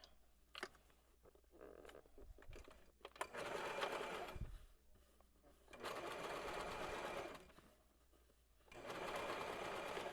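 A sewing machine runs a seam on a shirred dress in several bursts of rapid stitching, with quiet pauses and small handling clicks between the runs, close and moderately loud.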